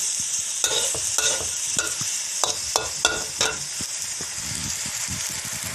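Chicken pieces sizzling in a dry wok with no oil, a steady hiss under repeated sharp scrapes and knocks of a spatula stirring the meat at an irregular rhythm.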